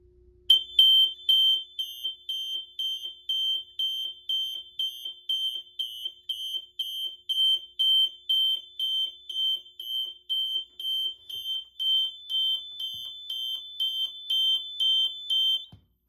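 A Fire-Lite fire alarm panel sounds after a smoke detector trip, in steady, evenly spaced high-pitched pulses, loud and continuous for over fifteen seconds before stopping abruptly.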